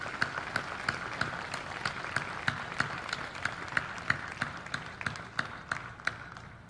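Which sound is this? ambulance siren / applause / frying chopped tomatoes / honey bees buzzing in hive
applause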